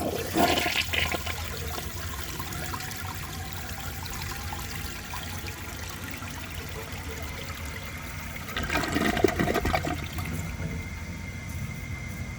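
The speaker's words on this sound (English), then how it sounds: "So I will show you guys a flush, and then let's see how it does on tests." A 1973 Eljer Emblem toilet fitted with custom Eljer parts flushes loudly and close up, a steady rushing swirl of water with a louder surge near the end as the tank refills and trickles, with no talking.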